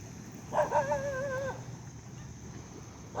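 A dog at the beach gives a brief high whimper lasting about a second, clear but fairly faint over steady outdoor background noise.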